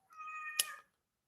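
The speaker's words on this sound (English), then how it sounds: "The cat's mad." A cat gives a single agitated, drawn-out meow that swells to a sharp peak near the end, close and fairly faint, with no talking over it.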